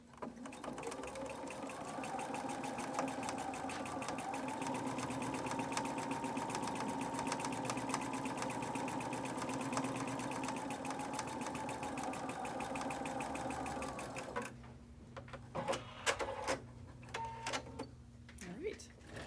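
A sewing machine stitches through a quilt block in a steady, continuous mechanical whir for about fourteen seconds, then stops, leaving a few handling clicks and taps at the end.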